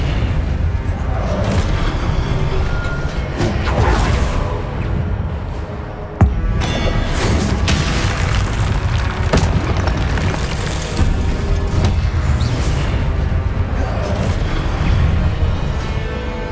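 Fiery booming blasts from the Incendio fire spell in the Hogwarts Legacy game, loud and dense, with a sustained roaring rumble and repeated bursts, one sharp crack near the middle.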